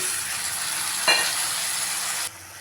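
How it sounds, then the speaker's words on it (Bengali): Spice masala with grated ginger, salt and a splash of water is sautéed in a pan. A steady close sizzle carries a brief stir partway through, then drops off abruptly near the end. "সেইটা এখন আমি ভালো করে কষিয়ে নেব"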